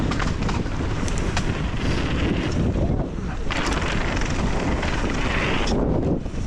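Steady roaring wind buffeting the microphone while mountain biking down a bike park trail, loud and continuous for the whole stretch with only brief dips, and no voices.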